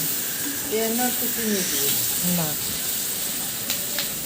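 Onions fry lightly in a pan with a steady, soft sizzle and hiss throughout, while someone talks over it.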